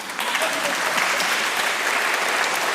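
Audience applause fills a conference hall, a steady dense clapping from a crowd that holds evenly loud for the whole stretch with no voices over it.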